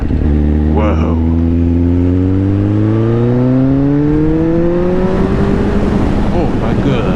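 Motorcycle engine revving up as the rider accelerates, pitch climbing steadily over several seconds, loud and close, with a brief exclamation from the rider near the start.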